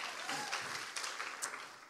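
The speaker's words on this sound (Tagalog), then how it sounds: "Lahat ng generous pumalakpak." An audience claps in applause during a Christmas church sermon, steady dense clapping throughout with a few sharper claps standing out, no talk over it.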